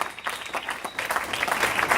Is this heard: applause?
yes